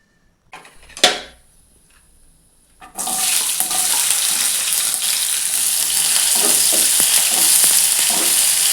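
Onions and potatoes start sizzling loudly in a pan after a brief clatter, then the frying hiss carries on steadily and close.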